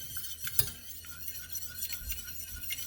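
A whisk clinks lightly and quickly against a pan while hollandaise sauce is beaten, small metallic taps at an uneven pace with one louder knock early on, faint and close.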